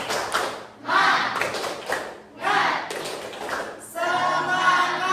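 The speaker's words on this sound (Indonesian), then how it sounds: "Yang kedua sekarang, tepuk semangat." A class does a rhythmic spirit-clap chant during a floor gymnastics lesson. Several sharp, patterned bursts of group clapping come through, with voices chanting between and over them.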